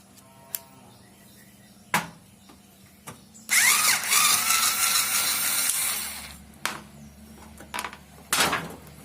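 A small electric screwdriver fitted with a PH1 bit whirs for about two and a half seconds as it backs out a screw, close and fairly loud, with sharp taps and clicks of handling before and after.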